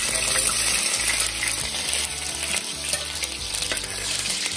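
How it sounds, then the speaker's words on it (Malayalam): Coconut oil sizzles in a pan while masala is readied for a beef dish, giving a steady, close crackling hiss that stays loud and even throughout with no talking. "വെളിച്ചെണ്ണ ഒഴിക്കുക"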